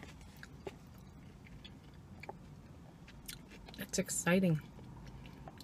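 A spinach, chicken and mango salad is eaten up close in a mukbang, with soft, scattered crunchy bites and chewing that build to a louder burst near the end, while a person speaks briefly.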